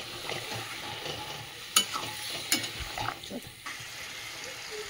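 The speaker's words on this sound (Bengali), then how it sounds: "চলো আলুটা ভালো করে কষিয়ে নিই" Spiced potatoes for a thick aloo dum are stir-fried in a pan, a soft continuous sizzle broken by a few scraping, clinking stirs of the spoon, close and moderately loud with no talking.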